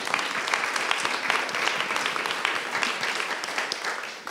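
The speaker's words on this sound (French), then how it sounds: "On t'applaudit." An audience applauds panelists at the close of a round-table on STEM education at a women's conference; sustained, even clapping at moderate distance that fades slightly at the end, with no voices over it.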